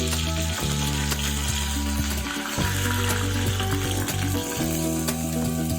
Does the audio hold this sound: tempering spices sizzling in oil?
yes